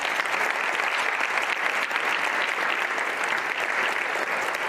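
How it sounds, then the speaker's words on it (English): An audience at a school district state-of-the-schools event claps in steady, dense applause that fills the hall throughout, with no one speaking over it. "Let's give all of them a round of applause."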